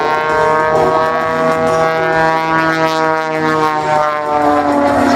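A propeller aerobatic airplane engine drones loudly and steadily with a rich buzzing tone that shifts slightly in pitch as the aircraft maneuvers through a torque roll and turns at an airshow.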